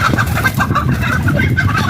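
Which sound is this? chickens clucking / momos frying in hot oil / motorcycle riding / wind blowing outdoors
chickens clucking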